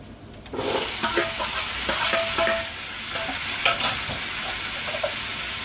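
Tomatoes and onions sauté in a pan for tomato chutney, a steady loud sizzle with scattered clinks and scrapes of stirring close by, no talking.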